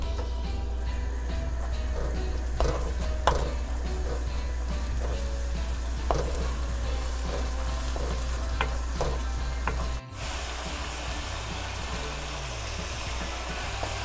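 Kimchi sweetened with a little oligosaccharide syrup stir-fries in a pan, giving a steady close sizzle with occasional utensil scrapes and clicks over a low hum that stops partway through.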